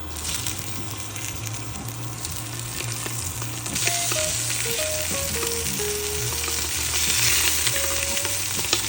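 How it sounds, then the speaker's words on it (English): Three sweet Italian sausages browning in a pan, a constant close sizzle and spatter with occasional stirring, growing slightly louder midway, over a low kitchen hum, no speech. "3 sweet Italian sausages. I'm gonna throw these right in, and the same thing, we're just gonna brown them."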